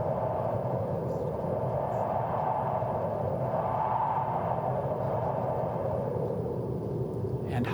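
A synthesizer imitating high desert wind, built from filtered white noise, a steady broadband hiss with a slow swell in the middle, continuous and even throughout.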